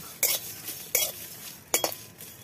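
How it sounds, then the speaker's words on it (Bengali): Mustard seeds, panch phoron and fennel being dry-roasted in a pan, heard as three short scraping stirs spaced apart, with faint crackle between them. "এগুলো দিয়ে একটু ভেজে নেব।"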